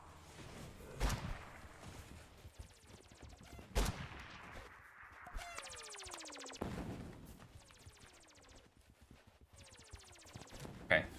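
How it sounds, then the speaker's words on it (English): NPCs in a game under development fire guns: several sharp isolated shots, each with a ringing, falling tail, spaced a second or two apart at moderate distance, while a voice talks quietly alongside. "Let's see if I can witness any NPC shooting."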